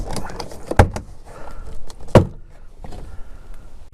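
Plastic clips pop loose as an outside door panel is pried off a 2007-2013 GM truck or SUV such as a Tahoe or Silverado, two sharp loud snaps separated by softer scraping and rustling handling noises, close up.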